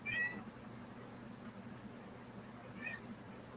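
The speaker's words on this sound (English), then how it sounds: "I can hear your cat." A house cat meows faintly indoors, two short meows near the start and end, heard under a low steady hum and soft background talk.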